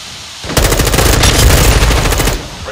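A loud burst of rapid automatic gunfire in Call of Duty: Modern Warfare II on the Shipment map, a dense rattle of overlapping shots lasting about two seconds after a brief quiet moment.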